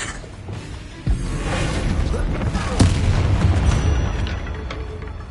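Bombarda spell explosion in Hogwarts Legacy, a sharp blast at about one second followed by a second boom, set against continuous rumbling game combat noise.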